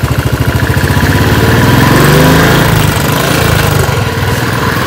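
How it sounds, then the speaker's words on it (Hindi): A Royal Enfield Bullet 350 Classic motorcycle idles up close and loud, its steady thumping single-cylinder beat continuing alone with no voices. "मेरे पास है बुलेट 350 क्लासिक।"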